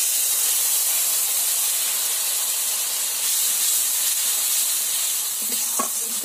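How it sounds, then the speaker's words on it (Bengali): Spice paste for a fish curry with potatoes sizzles and hisses steadily in a hot pan, loud and continuous, with a few brief stirring clinks near the end. "এবার যে মশলার পেস্টটা করে রেখেছিলাম সেটা দিয়ে দিলাম।"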